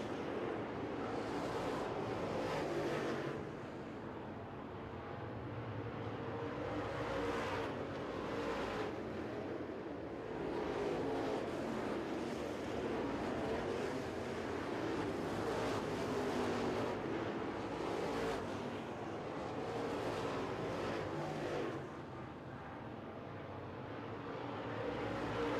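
Late model race cars in UCRA competition roar around Smoky Mountain Speedway in heavy traffic, a dense continuous engine drone that swells and fades as packs pass. No voices.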